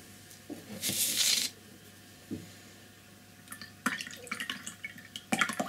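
A paintbrush swished and rinsed in a water jar between strokes of a flat-brush peony painting, giving short splashy bursts and dripping, clicky sloshes, fairly close and alone with no talk.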